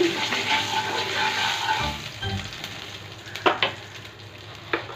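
Black cumin seeds (kalo jeera) fry in hot oil with a steady, close sizzle and crackle, while a couple of sharp clinks sound near the end.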